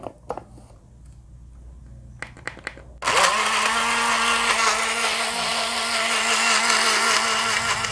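A few clicks and taps, then a Vitamer blender roars to life, whirring loudly and steadily at high speed as it churns an edamame smoothie.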